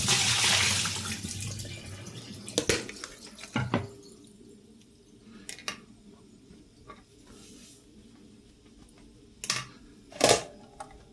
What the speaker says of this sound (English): now I've got all of my other aromatics in this water in a salad spinner. So we're just going to drain that out.